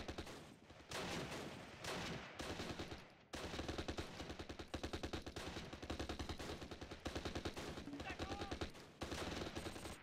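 Dense bursts of rifle and machine-gun fire in the Close Combat war game, rapid repeated cracks in long volleys with brief pauses between them, loud throughout.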